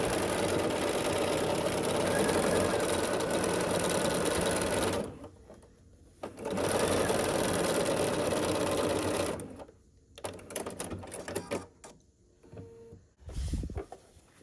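A sewing machine stitches a quilt block seam in steady, close runs of fast mechanical whirring, pausing twice and ending in short stop-start bursts.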